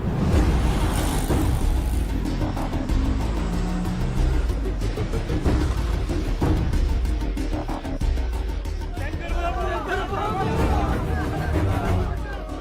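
An auto rickshaw is turned around and driven off in a Telugu movie scene, its engine running steadily beneath loud, urgent voices and background hubbub throughout.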